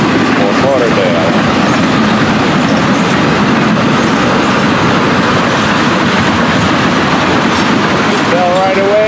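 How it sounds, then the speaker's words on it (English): A Florida East Coast freight train with double-stack container cars and loaded ethanol tank cars, bound south toward Fort Lauderdale, rolls past close by in a loud, unbroken rumble with rhythmic clickety-clack and brief wheel squeals near the end. "Double stack. And a tank train for down south."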